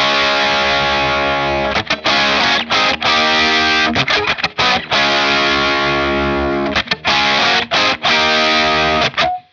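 A heavily distorted electric guitar, set up for the 1978 brown sound with EQ, plays loud sustained chords broken by short choppy stops and quick rhythmic stabs, with no talk.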